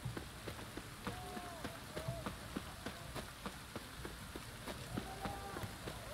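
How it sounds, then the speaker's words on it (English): Rain patters in The Witcher 3, a soft, steady hiss of drops on surfaces with scattered louder taps, faint and even throughout. "It's raining, of course."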